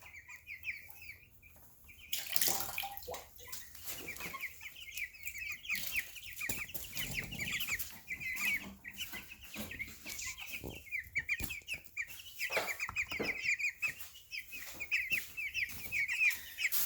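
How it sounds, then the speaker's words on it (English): A flock of fat meat-breed chickens clucks and chatters continuously in a coop, steady overlapping murmuring calls with occasional rustling and louder squawks, close by. "So these are all meat birds in here."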